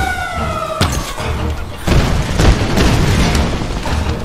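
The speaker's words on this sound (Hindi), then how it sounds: "नीचे से रास्ता भी उड़ा दिया उन्होंने।" Explosions and a deep booming rumble from the video game Tomb Raider Game of the Year Edition, with sharp blasts followed by sustained low rumbling and debris noise.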